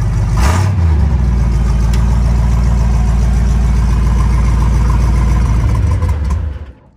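Blown 383 V8 in a chopped 1933 Chevrolet Eagle rat rod with a turbo 400 transmission, running close and loud with a deep lumpy idle and a brief rev near the start, then cutting off at the end.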